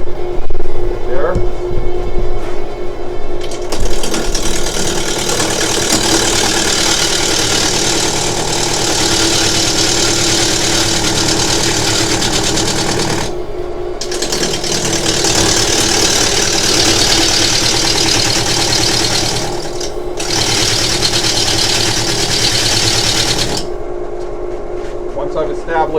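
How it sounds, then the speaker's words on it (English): A wood lathe hums at reduced speed with a steady motor drone and a faint whine, briefly cutting out twice before resuming, after a rougher, louder start. "I'm going to bring the speed down on the wood lathe"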